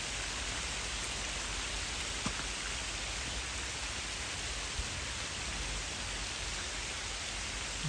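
Steady, fairly loud rain pours down at a coarse fishing spot on Catfield Dyke in the Norfolk Broads, a dense continuous hiss with a few faint drop taps and no voices.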